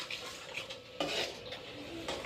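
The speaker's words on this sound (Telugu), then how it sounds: "ఇదంతా ఒకసారి మంచిగా కలుపుకుందాము" Spoon stirring a tomato and tamarind fish curry in a metal pan, scraping and clinking strokes at an uneven rhythm, close and fairly soft, with no talking.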